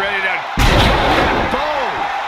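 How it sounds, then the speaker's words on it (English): A wrestler slams an opponent down onto the ring mat with a sidewalk slam during a Raw match between Raquel Rodriguez and Ronda Rousey, one loud heavy thud with a broad crash, under arena crowd noise and commentary. "And a sidewalk slam."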